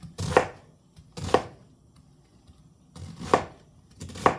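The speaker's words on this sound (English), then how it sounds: "we're going to cut this just like the other one. Small slices." A knife slices cabbage into small pieces on a board, four crisp, close cuts in an uneven rhythm with quiet gaps between.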